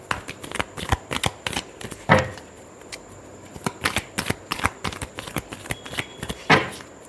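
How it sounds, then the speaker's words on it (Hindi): Tarot cards being shuffled, a run of crisp riffling snaps and flutters in quick bursts, close and fairly loud, with no voice over them. "Last shuffle."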